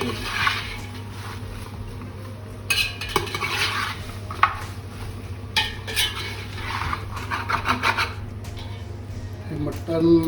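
Mutton fries in ghee in a pan while a spoon stirs and scrapes it, a steady sizzle under repeated metallic clinks, with a voice talking over it.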